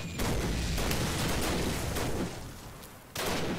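Battlefield gunfire and explosions in a World War One video game: a dense, continuous roar of rifle and machine-gun fire with booming blasts, briefly dipping, then surging loud again at close range.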